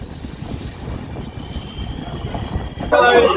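An express train rolls into Bardhaman Junction with a steady rumble and rhythmic wheel clatter heard from inside a coach, ending in a louder, harsh burst of noise in the last half second.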